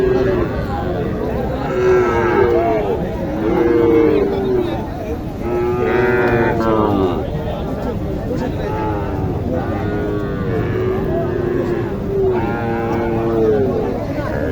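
A small Sahiwal heifer at Mataji cattle market in Naogaon, Bangladesh, lowing in repeated long moos, loud and close, over a constant background of market murmur.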